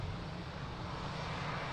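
An airliner's jet engines roar at Lisbon Airport during takeoff, a broad, steady, loud rumble with no other sounds.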